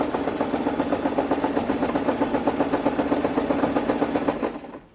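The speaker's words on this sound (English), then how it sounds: "Don't forget to place the presser foot down and continue sewing." Sewing machine running steadily for several seconds while stitching a boxy fabric pouch, a close, even rhythmic whir that stops at the end.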